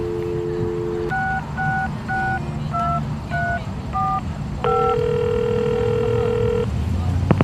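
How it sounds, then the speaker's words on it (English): A payphone in the Leisure Suit Larry Reloaded video game gives a steady dial tone, then a run of about seven crisp touch-tone digits and a longer held two-tone signal, loud and clean over a low background hum. "You pick up the phone, and to your delight, you get a dial tone."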